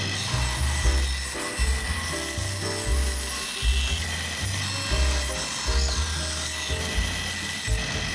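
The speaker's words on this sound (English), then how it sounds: "I'm just cutting out some extra trim to put on the sides" Handsaw cutting trim from a cedar fence plank, a steady rhythmic rasping of back-and-forth strokes, close and continuous throughout.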